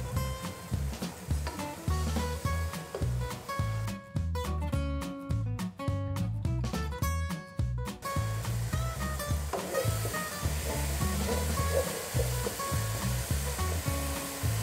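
Garlic-ginger paste and softened tomatoes fry in a pan for a pakora kadhi, giving a steady, close sizzle with scattered stirring clatter throughout, with no speech.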